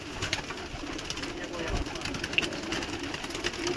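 Madrasi pigeons coo softly amid a steady mechanical hum and someone speaking at a pigeon-keeping spot, their calls low and partly buried under the talk and noise.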